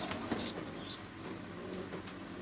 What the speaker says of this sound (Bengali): এটা হলো বাবা সেকেন্দারের কবুতরের বাচ্চা